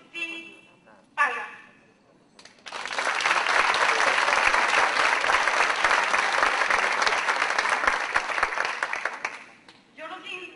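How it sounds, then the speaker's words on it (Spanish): Applause from the audience at the closing ceremony of a national community water-management gathering: a dense, steady burst of many hands clapping for about seven seconds, loud and close, bracketed by brief speech before and after. "les pido un aplauso para cada uno de ustedes que están aquí"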